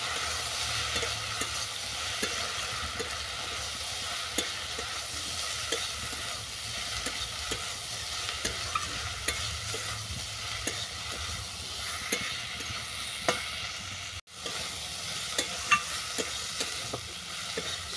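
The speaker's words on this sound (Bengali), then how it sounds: "মশলাগুলোকে ভালো করে মিশিয়ে নেব" Okra is stirred and fried with spices in a pan: a spoon scrapes the pan in a regular rhythm over a continuous moderate sizzle, with a brief drop near the end.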